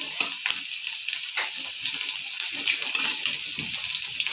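Onions frying in a pan with a little salt while hot water is poured in, giving a steady, close broadband sizzle and hiss with small crackles throughout, no talking.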